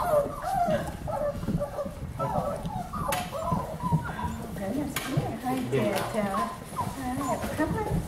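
A litter of beagle puppies plays tug of war, with yips, whimpers and scuffling throughout while someone talks over them.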